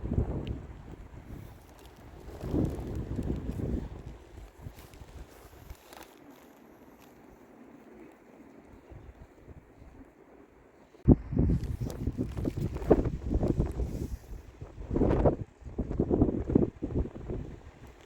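Hurricane-force winter wind storm in Visaginas, Lithuania, bending trees: gusty roaring blasts buffet the microphone, easing to a quieter lull midway before strong gusts surge back.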